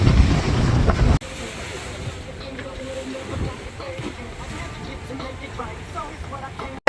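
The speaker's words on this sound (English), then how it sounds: "the wind's starting to pick up" Wind and waves rush past a sailboat at sea between San Diego and Cabo, a loud gust of wind buffeting the microphone followed by steady washing water and hull noise.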